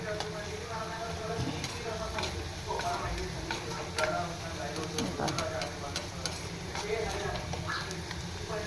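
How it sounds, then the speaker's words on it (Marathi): Capsicum tossed into vegetables frying in a pan: a steady sizzle with frequent stirring clatters and utensil taps, and a bump as the pieces go in, while a voice speaks in the background. "त्यात टाकून घेतो आपण ही शिमला मिरची"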